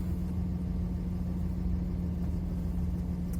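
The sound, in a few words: car driving on the road after a G56 transmission oil change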